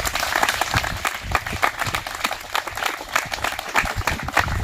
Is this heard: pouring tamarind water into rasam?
no